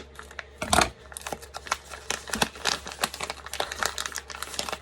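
Scissors snipping a slit into a plastic rice pouch in a kitchen, a close run of crisp crinkling cuts and rustles of the packaging, loud and irregular with no talk.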